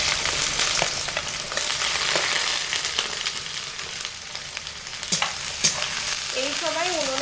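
Carrots fry in very hot oil in a kadai for a vegetarian dal, a steady loud crackling sizzle with scraping stirs, and a short whistling tone near the end.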